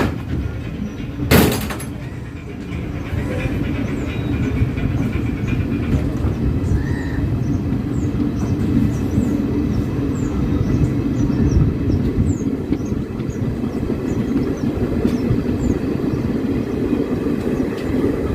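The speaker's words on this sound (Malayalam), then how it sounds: "ട്രെയിൻ ഡിപ്പാർട്ട് ചെയ്തിരിക്കുകയാണ് കേട്ടോ" Train pulling out of Bekal station on the Kanhangad to Mangaluru line, heard from onboard an unreserved coach: a steady, loud rumble of wheels and running gear that holds throughout, with a sharp bang near the start and no talking.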